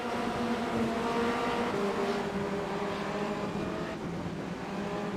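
Formula Renault single-seater race cars come through turn one with a continuous, fairly loud engine drone whose pitch shifts slightly as the cars pass, heard at a distance with no voices.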